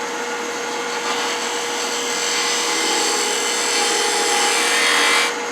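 A wood-turning gouge shears steadily into a spinning wooden Roman flask on a lathe, a continuous close rasping hiss over a motor hum that ends abruptly as the tool lifts away.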